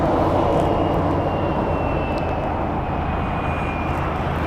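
An airliner on final approach into Las Vegas Harry Reid International Airport gives a steady, loud roar of jet engines with a faint thin whine above it, close and constant throughout, no talking.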